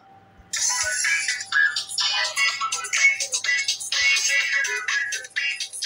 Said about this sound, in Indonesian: ini nada dering yang terakhir saya pakai